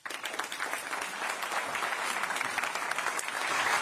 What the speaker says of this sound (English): I hope all agree that this deserves a round of applause.